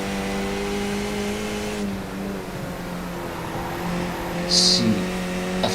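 Racing car engine in a Formula-style racing video game, a steady droning whine with shifting pitch as the car is pushed hard through a chicane, held at moderate level with a brief brighter burst near the end.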